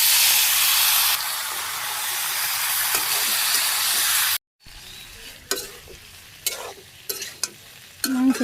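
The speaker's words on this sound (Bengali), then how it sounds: "এখন মাংসগুলো দিয়ে দিই।" Meat drops into hot oil spiced with cumin and browned onion in a pan, bursting into a loud, steady sizzle, then after a brief silence the frying continues quieter with sharp stirring scrapes and crackles.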